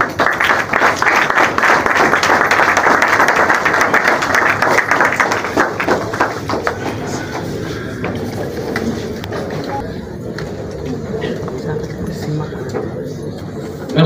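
A ceremony audience at a museum gives dense, sustained applause for a minister taking her seat, loud for about six seconds before thinning into scattered claps and room murmur.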